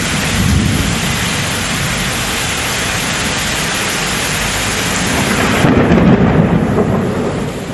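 A heavy night downpour in Tamil Nadu's Erode district roars steadily as dense rain with deep rolling thunder, loud and close throughout and swelling in intensity toward the end.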